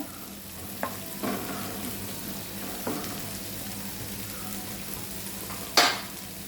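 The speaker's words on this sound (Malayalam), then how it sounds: "ഹൈ ഫ്ലെയിമിൽ വെച്ച് നമുക്ക് എടുക്കാം ഹൈ ഫ്ലെയിമിൽ ഇനി ഫ്ലെയിം കൂട്ടി വെച്ചിട്ടുണ്ട്" Pumpkin stir-fry on a small burner at high flame, a steady close sizzle with occasional stirring scrapes and a sharper clink near the end, no talking.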